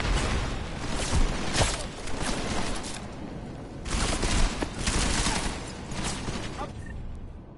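Rapid bursts of gunfire from the video game Deus Ex: Mankind Divided come in several loud volleys separated by brief lulls, dense and sustained like a firefight.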